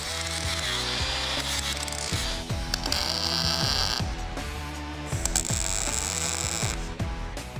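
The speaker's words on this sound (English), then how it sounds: "I'll start by grinding the paint off." An angle grinder strips paint from a Mazda Miata subframe, a continuous loud, close metallic whine with a rhythmic scraping and ratcheting texture that shifts in pitch and pressure as it works across the metal.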